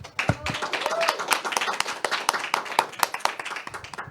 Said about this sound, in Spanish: Despedimos a Giovanni Medina con un fuerte aplauso